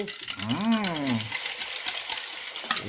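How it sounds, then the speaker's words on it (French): Broth splashes into a hot pot of braised beef cheek stew with a steady steaming hiss and sizzle. A brief voice rises and falls near the start. "Et maintenant, nous allons tout mouiller avec le bouillon."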